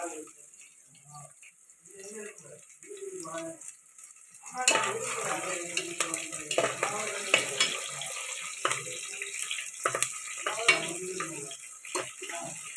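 Curry leaves and onions frying in a pan for a home-style dal rice, a sudden loud spitting crackle that starts partway through and keeps hissing steadily, after quieter talk, with a person speaking over the frying.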